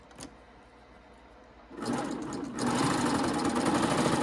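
A serger sewing machine stitches binding onto a quilt, starting quietly and then running in a loud, steady mechanical whir that grows louder partway through and continues to the end.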